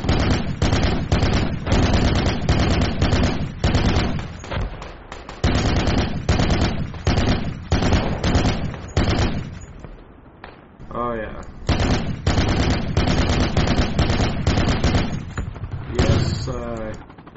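Dense automatic and single gunfire from the military shooter game Project Reality, rapid bursts of loud cracks running almost continuously, with a brief lull midway, while voices talk over the shooting.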